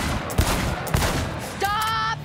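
Gunfire at a shooting contest in a video game: two sharp nearby shots about half a second apart, followed by a tonal electronic ringing or beep, with game ambience underneath.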